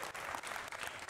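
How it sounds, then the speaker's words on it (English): Brief burst of applause from an audience at a youth basketball coaching clinic, a quick patter of clapping hands that stays fairly faint. "Applause for guys."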